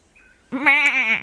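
A sheep gives a single loud, close, wavering bleat after a faint brief tone, with no talk over it.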